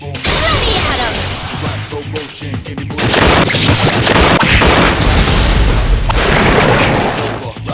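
All-out attack in the video game Persona 3 Portable, loud continuous booming crashes and rapid impact bursts layered with game audio.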